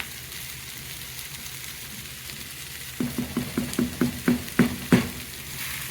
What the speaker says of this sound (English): I'll just give that just a quick stir